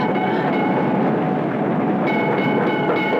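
A funicular train in a film scene rumbles past loud and close, a continuous dense clatter of wheels on rails that holds steady throughout.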